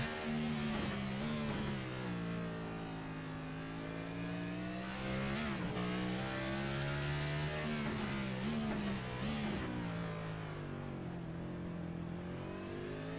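An onboard race car engine in the ECR NextGen Cup racing game revs loud and close, its pitch rising and falling through gear changes and corners with no break.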